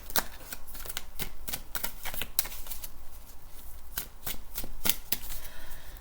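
A deck of tarot cards being shuffled close up, with a quick series of crisp riffling and slapping bursts repeating steadily and no voice over them.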